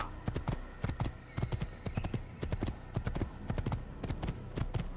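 A horse gallops in the Assassin's Creed video game, its hooves beating a quick, steady, close clip-clop rhythm that runs without a break throughout.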